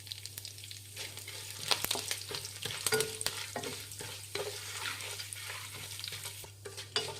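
Chana dal and urad dal frying in hot oil in a pan with curry leaves, a steady sizzle under repeated scraping stirs, close and continuous with no talk.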